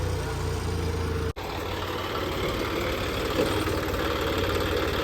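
A tractor engine idles with a steady, even low rumble, close and alone, broken by one very brief cut early on.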